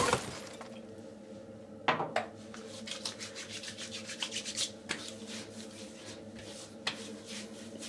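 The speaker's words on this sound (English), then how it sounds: "Let's do the old Bushmalt aftershave. Mix it up, shake it up." A bottle of Murphy and McNeil Olde Bushmalt aftershave is shaken by hand, giving a steady run of close, rattling glassy rubs and light clinks with a few sharper knocks, and no voices.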